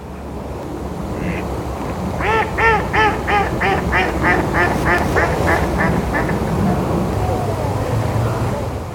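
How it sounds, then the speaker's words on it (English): Mallard ducks quack in a rapid series of a dozen or so harsh calls, a laughing run that rises then tails off, over steady outdoor background noise near water during an autumn walk by a hide. "You can hear the mallards again laughing."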